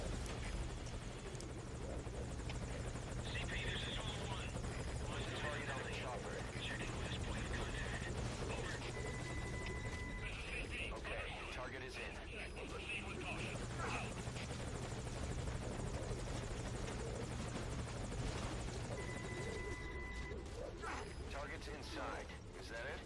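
A helicopter arrives in the stealth video game Metal Gear Solid V: Ground Zeroes, its steady rotor drone running throughout at a constant level, mixed with game sounds and occasional radio chatter.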